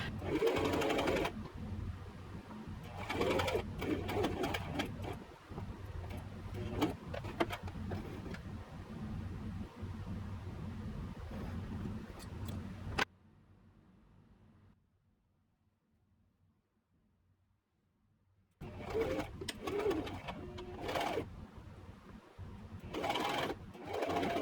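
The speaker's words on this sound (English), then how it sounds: "I am just gonna sew the side seam" Domestic sewing machine running steadily on a cotton top's sleeve seam, a close continuous whir with brief speed changes, falling silent for several seconds midway before starting up again.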